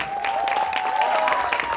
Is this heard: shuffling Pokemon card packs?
no